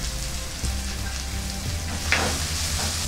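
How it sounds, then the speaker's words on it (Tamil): Onions and curry leaves sautéing in a pan for a cauliflower peas kurma, a steady close sizzle with a brief scrape of stirring. "வெங்காயம் வதங்கிடுச்சு"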